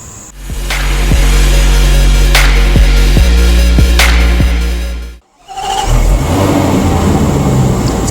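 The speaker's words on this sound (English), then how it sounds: "Got a little bit of a cold start, but again, it's a very stock exhaust because it's luxury oriented" A 2019 Range Rover SV Autobiography with stock exhaust idles loud and close on a cold start, a deep steady engine drone with several sharp revving blips before cutting briefly, then settling back to a rougher idle.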